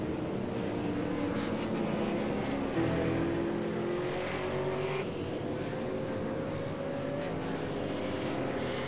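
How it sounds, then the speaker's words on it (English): A V8 Supercar on a qualifying hot lap at Sonoma roars continuously at a distance, its engine note climbing and shifting pitch through gear changes, with a steady broadband rumble and no speech. "I believe Matthew Nethercott's on a hot lap at the moment though."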